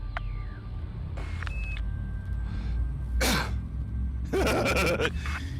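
Spaceship FTL engines charge and jump in the Elite Dangerous video game, with tonal electronic whines, a rising whoosh midway, and a dense roaring surge near the end over a steady low rumble.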